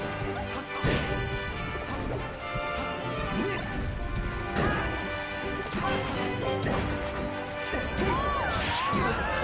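Up smash attacks landing in a Super Smash Bros.-style fighting game doubles match, a series of sharp smacking crash hits spread across the clip over game sound and music, with commentators talking at a distance.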